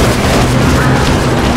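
An explosion in the video game Dead Rising, a loud, dense, sustained roar of blast noise filling the short moment.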